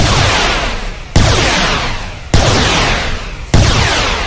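Stacked explosives detonating in a video game: three loud, sharp blasts with sudden broadband onsets about 1.2 seconds apart, each followed by a long rumbling decay, over continuous roaring background noise.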